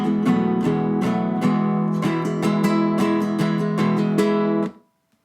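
An acoustic guitar plays the short bridge of a song, close and full, with a steady flow of picked notes over ringing chords for about five seconds before the sound stops, no voice.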